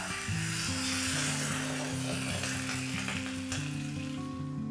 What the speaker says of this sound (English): And now cover it up with half a liter of vegetable stock.